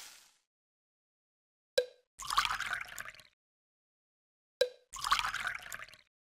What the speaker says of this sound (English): Touch the ingredients to add them to the bowl.